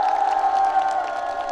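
A large outdoor concert crowd at the Ulsan fireworks festival cheers and claps continuously, with a steady high wash of shouting and screaming fans that stays loud throughout.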